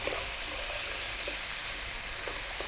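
Chickpeas dropped into a sizzling vegan spinach curry pan over above-medium heat, a loud, dense, steady frying sizzle with a few faint stirring clinks underneath.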